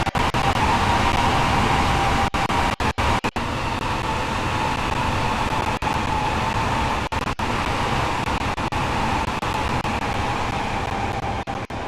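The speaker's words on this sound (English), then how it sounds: "You can see us accelerating down the line." An LNER class 801 train accelerating along the line, heard from inside the cab as a steady, loud broadband rumble and rushing roar with brief dropouts and no talking.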